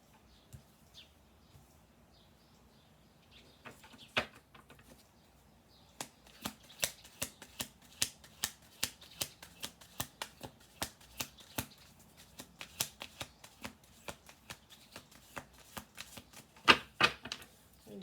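A deck of playing cards is shuffled repeatedly indoors: a few scattered riffles, then a long run of quick, crisp riffle bursts with short pauses between them, close and fairly quiet with no talking.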